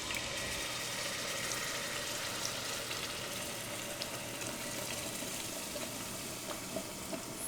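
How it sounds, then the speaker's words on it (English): Enchilada sauce poured into very hot oil for three cheese chicken enchiladas, giving a steady, fairly faint hiss of sizzling and bubbling that holds evenly throughout with no voices. "Once my oil is really hot, I'm going to pour my sauce in there, and the hot oil is gonna shock the sauce."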